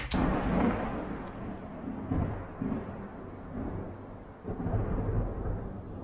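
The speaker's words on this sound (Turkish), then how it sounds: "Dünyada görülmüş en büyük fırtına Amerika." A huge thunderstorm in America sends deep, rolling thunder rumbling in several swells over steady background noise, with no voices.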